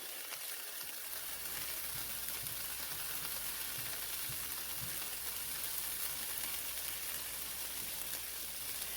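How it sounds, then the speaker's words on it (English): Frozen vegetables fry in a pan for Chinese-style shrimp fried rice, giving a steady, close sizzle and crackle that holds at an even level throughout with no talking over it. "right now I'm kind of just frying up these vegetables"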